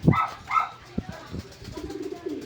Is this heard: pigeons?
yes